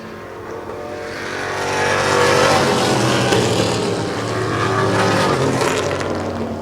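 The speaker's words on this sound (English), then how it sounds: "Here comes that 19 car up along the outside." The number 19 race car comes up along the outside on an oval track, its engine roar swelling loud as it passes and blending with the drone of other cars running close behind.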